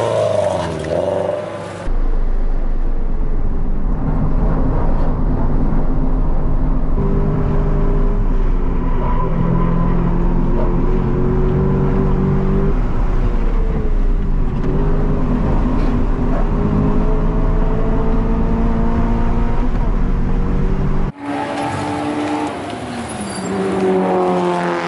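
Toyota GR86 race car lapping Willow Springs, a loud engine roar rising and falling through gear changes for about twenty seconds, with a brief pause near the end before the engine picks up again.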